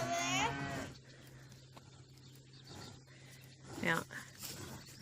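A cow named Chocolate moos loudly and close by at the start, then a second, shorter moo follows near the end, with a steady low hum and faint barn ambience in between.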